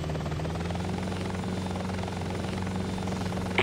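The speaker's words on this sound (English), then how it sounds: "I've got an Apache on radar." An Apache attack helicopter in the combat video game Hostile Waters: Antaeus Rising, its steady rotor thump and engine whine droning continuously and loudly throughout, with no voices.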